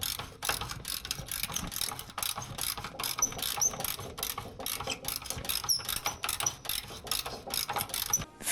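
A wrench works loose bolts underneath a car hauler with rapid, continuous ratcheting clicks and metallic rattling in irregular bursts, close and fairly loud, no speech.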